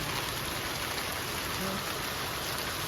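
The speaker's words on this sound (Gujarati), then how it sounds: "કેટલું જોર વધી ગયું વરસાદમાં" Heavy rain pours down in a dense, unbroken roar, a steady wash of drops striking surfaces all around.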